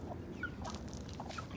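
Buff Orpington hen in a backyard coop giving a few soft, faint clucks and short chirpy calls over quiet background noise.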